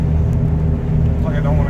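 A 1988 Ford F150 with a 5.0 engine idles roughly, a loud low rumble with an uneven, jolting pulse close by.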